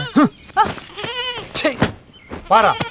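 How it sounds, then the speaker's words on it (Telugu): A lamb bleats in repeated wavering cries, close and fairly loud, in short bursts with gaps between them on a farm. "ఈ గొర్రె పిల్లకి కేకలు ఎక్కువ అవుతున్నాయిరా."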